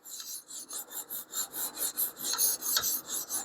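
A knife blade is sharpened on a stone with quick back-and-forth strokes, producing a steady rhythmic rasping of about four strokes per second that is close and even, with no voices.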